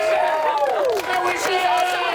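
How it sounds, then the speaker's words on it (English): A small round of applause with cheering greets a presenter's on-camera debut during a Torch Sports student sports broadcast season finale. Close, loud voices whoop and call out continuously, with scattered claps mixed in. "Little round of applause."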